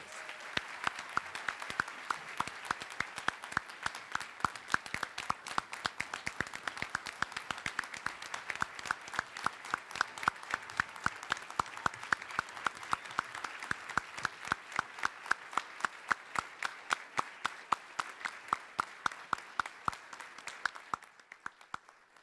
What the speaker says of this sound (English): Let's give these amazing students a round of applause.